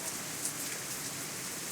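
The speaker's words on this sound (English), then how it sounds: "In fact, it starts to rain even harder, just to spite her." Steady rain falling in the Katawa Shoujo visual novel, a soft, even hiss of droplets spread across the whole span with no talking over it.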